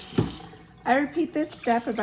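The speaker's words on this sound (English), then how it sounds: "I take some cold water from my sink and just mix it around." Cold water running from a kitchen sink tap to rinse rice, a short splashy burst at first, then a soft steady trickle while someone talks over it.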